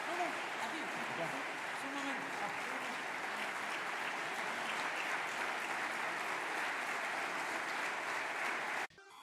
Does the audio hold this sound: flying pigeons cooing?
no